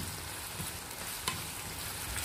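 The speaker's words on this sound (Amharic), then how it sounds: "ጋል ሲልልን ሽንኩርታችንን እንጨምራለን" Chopped onions frying in hot oil in a pan, a steady close sizzle with soft crackle and one brief clatter partway through, no voices.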